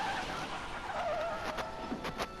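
A car skids in within Back to the Future: The Game, a drawn-out tire screech sliding down in pitch over a steady engine rumble, followed by a couple of short bursts near the end.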